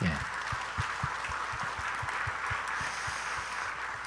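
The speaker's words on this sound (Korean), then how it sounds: "우리 박수 한번 하겠습니다" A church congregation claps steadily in a regular, even rhythm during a Sunday service after a pastor's ordination, with murmuring voices underneath throughout.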